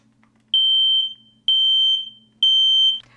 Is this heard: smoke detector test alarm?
yes